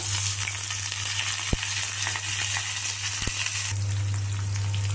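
Tempering of green chillies and curry leaves frying in hot oil for a bean curry, a steady close sizzle with two sharp clicks, under a constant low hum and no talk.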